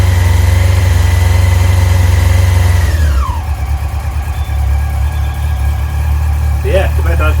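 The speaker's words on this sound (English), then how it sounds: "You can hear the revs raising up now. It's nice and warm." A warm Yamaha R6 engine idles with a steady, loud, close hum, then its revs drop as the choke and throttle come off and it settles into a lower, slightly uneven idle, with a brief voice near the end.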